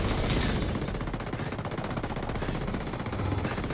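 Sustained machine gun fire in the shooter game Ghost Recon Breakpoint, a dense, continuous rattle of rapid shots that runs loud throughout without talk.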